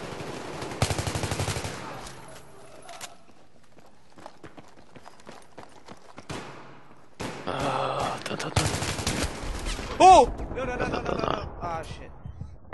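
AK rifle fire in the online shooter Rebels Underground: scattered single shots and short bursts over about thirteen seconds, with some louder close volleys near the end and faint footsteps in between.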